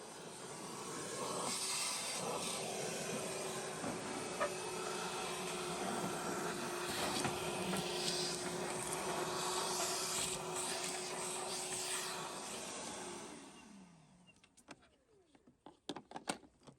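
A vacuum cleaner sucks grease and ash out of an ASmoke AS350 tabletop pellet grill, a steady loud hissing roar that runs for about twelve seconds before winding down into scattered knocks and scrapes.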